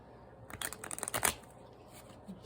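Tarot cards being shuffled by hand during a card reading, a quick burst of crisp riffling and flicking that rises and stops after about a second, fairly close and alone with no talking.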